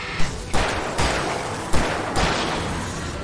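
Pistol shots in the video game Alan Wake Remastered: about five sharp, loud reports at uneven intervals, each followed by a short decaying tail, with no talking over them.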